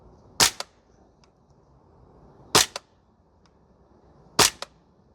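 Archwick APC9K PRO gas blowback airsoft rifle firing 0.3 g BBs on a range: three sharp single shots spaced about two seconds apart, each a crisp snap with a quick metallic blowback echo, fairly close and otherwise quiet.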